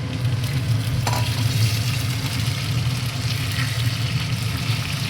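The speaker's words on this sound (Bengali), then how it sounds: "ঢাকা দিয়ে দিই, তেল ছিটকাচ্ছে" Continuous loud sizzling and crackling of oil spattering in a hot pan with onions and tomatoes, steady throughout with a low hum underneath.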